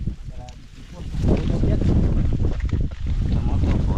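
On a net-fishing boat at sea, strong wind buffets the microphone in a steady low roar, with waves and water noise blending underneath and a voice faintly audible at the start.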